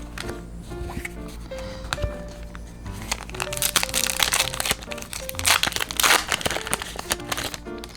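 Crinkling and crackling of a foil Weiss Schwarz trading card booster pack being torn open and handled, close and fairly steady with louder crunchy bursts toward the end, a faint voice briefly under it.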